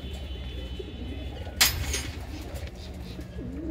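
Black-eyed Mirab pigeons coo softly and steadily inside a net enclosure, with a brief rustling burst partway through.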